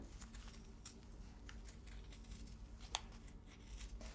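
Scissors cutting through fabric with a paper pattern left in place, giving quiet, close snipping and rustling at a steady pace with one sharper snip.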